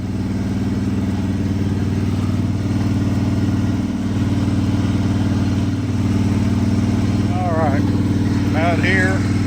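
A riding lawn mower engine, under test after a fix for a mower deck shredding belts, idles in a loud, steady drone close by while a voice speaks over it.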